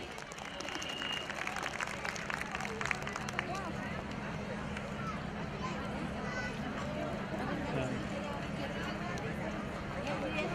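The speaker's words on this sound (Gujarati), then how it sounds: "એક વખત તાળીઓના નાદ લગાવી દોસ્તો" Sustained applause and crowd noise from the audience at a community wedding festival and reunion gathering in Surat, dense and steady throughout, with murmuring voices mixed in.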